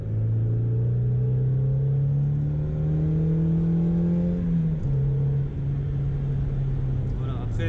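Mazda MX5 NB engine held high in the revs while driving, a steady loud drone that climbs in pitch then drops briefly as it shifts, with someone talking over it throughout.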